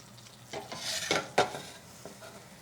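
Crab-stuffed ravioli frying in butter in a pan, a close sizzle with a few louder bursts of crackling as the pieces are stirred or turned.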